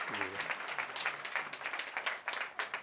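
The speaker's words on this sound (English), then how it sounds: "please put your hands together for Mr. Byron Lars" Audience applause at a conversation event with designer Byron Lars, a dense run of many hands clapping steadily at a moderate distance, with a brief voice at the start.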